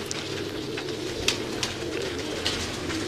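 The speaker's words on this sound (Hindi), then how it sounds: "ये तमाम कबूतर जी जी टैडी ब्रीड है, लाल परों वाली टैडी ब्रीड है जी" Red-feathered teddy breed pigeons coo in a flock, steady low throaty cooing with a few slightly louder calls standing out, heard nearby without speech.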